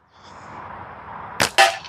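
An Omega slingshot in Olympus Green fires, and the ammo strikes the catch box with a sharp smack, then a second crisp impact a moment later, close and loud after a soft hiss.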